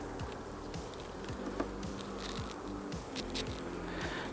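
Dense, steady buzzing of honey bees crowding a hive frame held up at close range, a continuous drone with individual bees whirring past.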